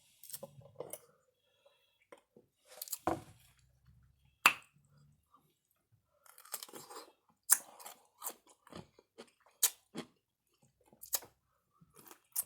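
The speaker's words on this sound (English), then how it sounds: "This one of them kosher deal pickles" A kosher dill pickle is chewed up close during a mukbang meal, with sharp wet crunches and bites in uneven bursts separated by short silences; faint mouth sounds between them.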